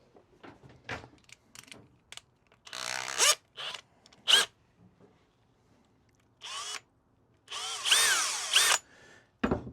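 Short bursts of a small power drill boring into the housing of a Bachmann K27 model locomotive, several separate whirring runs of varying length with quiet pauses between them, close and fairly loud.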